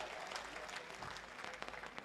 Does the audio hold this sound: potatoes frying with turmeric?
no